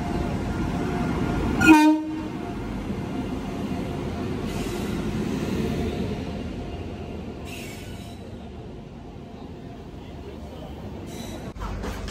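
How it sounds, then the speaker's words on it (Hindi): Sarnath Express passenger train arriving at an Indian railway station, a loud continuous rumble of rolling wagons with a short horn blast near the start, steady station ambience throughout. "अभी टाइम हो रहा है 9:17 और अपनी ट्रेन सारनाथ एक्सप्रेस आ चुकी है।"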